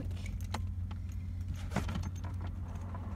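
Keys jangling in short metallic bursts inside a car, close and fairly soft over a constant low engine or cabin rumble, with a few scattered clinks and rattles.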